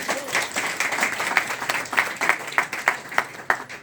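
Audience applause at an event held at Sukhdev Dhaba in Murthal, a crowd of hands clapping steadily with some sharper individual claps standing out, moderately loud and continuous.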